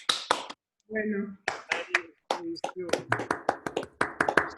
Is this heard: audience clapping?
yes